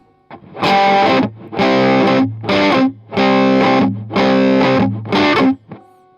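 A loud distorted PRS SE electric guitar on the bridge pickup plays six strummed chords, each ringing out briefly before the next, with no other sounds.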